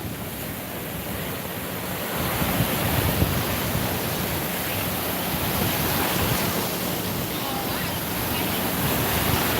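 Ocean surf washes steadily onto a beach around someone standing in the water, a continuous broadband roar with wind buffeting the microphone, swelling slightly louder after the first couple of seconds.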